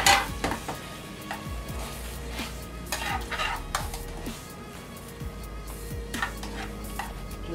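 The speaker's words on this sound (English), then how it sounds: "I'm going to gently stir the butter into the sauce to finish the dish" Butter being stirred into a Marsala wine sauce in a pan, soft bubbling sizzle under repeated scraping and clinking of a utensil against the pan, close and moderately loud with no talking.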